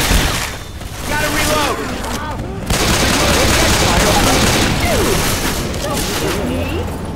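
Gunfire in the video game Left 4 Dead 2, loud rapid bursts and fusillades of shots running through the clip, with players' voices talking over the shooting.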